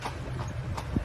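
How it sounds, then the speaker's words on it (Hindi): Hooves of a horse pulling a horse-drawn carriage clip-clop steadily and close on the road, with a low rumble of wheels and traffic beneath. "अच्छा है घोड़ा गाड़ी"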